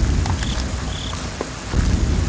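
Steady rain ambience with low rumbling in the horror video game Slender, a dense continuous wash with a faint high chirp or two on top, no talk.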